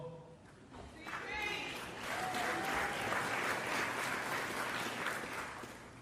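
An audience at a basketball Hall of Fame induction speech breaks into sustained applause, a dense wash of clapping that swells and holds, with a voice faintly audible early on.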